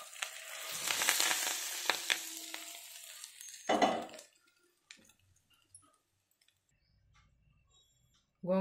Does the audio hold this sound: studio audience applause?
no